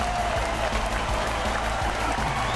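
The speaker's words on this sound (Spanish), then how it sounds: "¡Los aplausos!" Applause from the video game Ben and Ed, a dense, steady wash of clapping that fills the whole moment at a constant level with no gaps.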